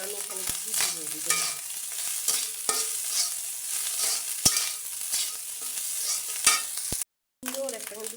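Rice tossed and fried in ghee with a little oil in a pan, a steady close sizzle broken by sharp spatula scrapes and stirring knocks, with one brief silent gap near the end.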